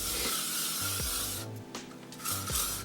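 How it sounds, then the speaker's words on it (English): L'Oreal Paris Elnet hairspray sprayed onto hair in close, loud hissing bursts, a long continuous spray followed by shorter puffs. "I am just going to go back in with the L'Oreal Paris Elnet hairspray"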